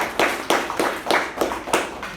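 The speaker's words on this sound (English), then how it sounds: "Can I have a round of applause for Toastmasters?" A few people at a Toastmasters club meeting clap in a sparse, regular rhythm, roughly three or four claps per second, fairly close and moderately loud.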